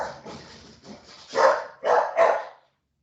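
A dog barks indoors at fairly close range: a few softer woofs, then three louder, distinct barks in quick succession before falling quiet.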